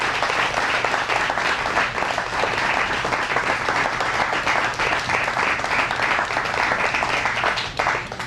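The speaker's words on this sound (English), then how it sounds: "Give them a big round of applause." Sustained applause from an audience at a Mother's Day program honoring sisters, dense steady clapping filling the room for the whole stretch with no pauses.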